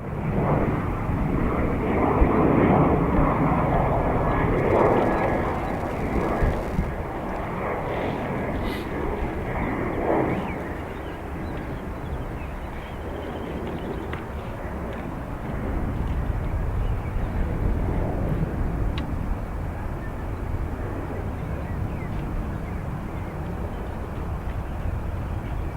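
A Ryanair airliner on landing approach to runway 28 left at Dublin Airport, a steady loud broadband jet roar that swells early and then holds at a fairly constant level throughout.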